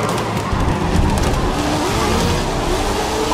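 Race cars in the Grid 2019 racing game, a steady loud roar of several engines revving hard together with no pause, no speech over it.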